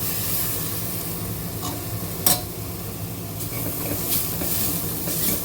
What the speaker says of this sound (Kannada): ಈ ಹತ್ತು ಮಸಾಲೆಗಳೆಲ್ಲ ಕಾಳಿಗೆ ಸೊಪ್ಪಿಗೆ ಮತ್ತು ಟೊಮೆಟೊಗೆ ಹಿಡ್ಕೋಬೇಕು ಹಾಗಾಗಿ ಸ್ವಲ್ಪ ಫ್ರೈ ಮಾಡ್ಕೋಬೇಕು